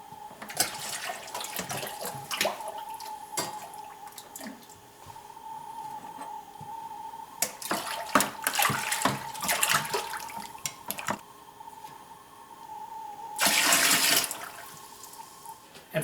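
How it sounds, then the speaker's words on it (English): Water is poured and run during mead making with tropical honey, heard as a steady trickling and splashing stream with clinks and knocks, and a louder gush of water near the end. "I'm going to go ahead and measure out some more of the water I need and pour just a little bit"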